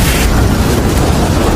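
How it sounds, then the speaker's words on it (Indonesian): A loud explosion from a Vietnam War film scene, set off by a gas canister in a tunnel corridor. The blast is a dense, rumbling roar that holds steady for the whole moment, with no voices. "ledakan yang ditimbulkan dari Crayfoot barusan membuat seluruh lorong bergetar"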